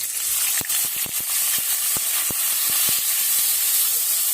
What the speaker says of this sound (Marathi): त्यात आपल्याला तेलात भाजून घ्यायचं आहे